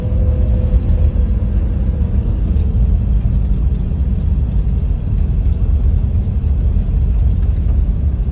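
A 1957 Chevy engine with an old generator idles steadily and loudly up close, a continuous low rumble with no revving and no talk over it.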